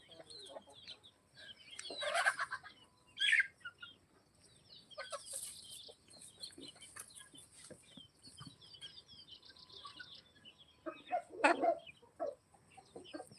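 Desi village chickens on a farm cluck in several loud bursts around a constant low murmur of farmyard calls and wing flutters, with no talk over them.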